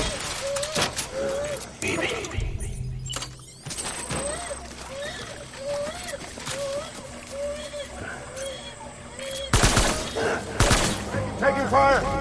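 Gunfire in a Vietnam war video game, sharp bursts and shots cracking out in irregular clusters amid a busy battle mix, with shouted voices and radio-like chatter running throughout.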